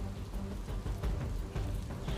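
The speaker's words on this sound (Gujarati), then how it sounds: "અમદાવાદના કેટલાક વિસ્તારોમાં ફરીથી વરસાદની મહેર જોવા મળી રહી છે" Steady, dense rain in Ahmedabad hisses without a break, with soft low rumbles underneath and no voices.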